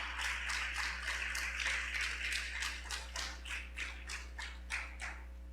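A church congregation applauding at a Sunday morning service: a steady patter of many hands clapping, rising into rhythmic, evenly spaced claps over a low hum, with no voices.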